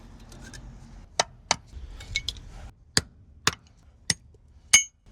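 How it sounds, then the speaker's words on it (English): New bushings are hammered into trailer leaf springs: sharp metallic strikes, close and loud, come singly and in pairs at uneven intervals against a quiet background. "Bushings on the springs are out, new bushings going in."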